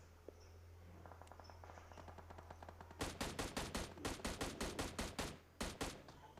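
Scattered faint shots at first, then rapid bursts of automatic gunfire in quick, uneven volleys, sharp and close, with brief pauses between, in PUBG Mobile gameplay.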